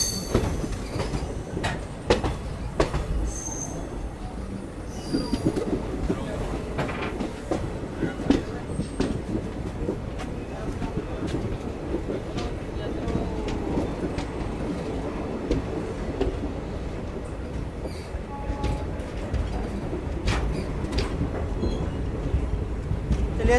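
A long-distance passenger express on the Delhi Hazrat Nizamuddin–Secunderabad route rolls along the rails after departing a station, a continuous loud rumble with steady clickety-clack wheel beats and occasional squeals, heard from inside the train.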